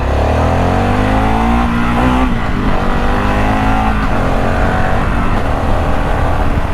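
A Harley-Davidson Pan America 1250 motorcycle engine revs hard and close, climbing in pitch through low gears with brief dips between quick-shifter shifts, loud and continuous throughout.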